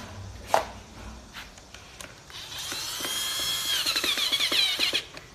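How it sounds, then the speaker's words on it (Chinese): An electric drill drives screws while a Normad 3 chair is assembled: a few sharp clicks, then a close, steady motor whine of about three seconds that climbs slightly in pitch and stops abruptly. "我这边是用电钻的"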